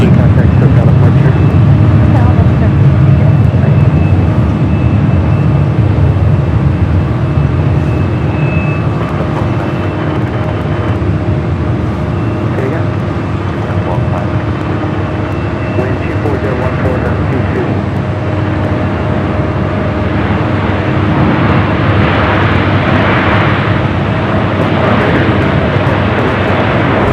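A Southwest airliner takes off from runway 24 left at LAX, its jet engines giving a sustained, loud rumbling roar with a faint whine, steady throughout and building slightly toward the end, while a voice talks over it.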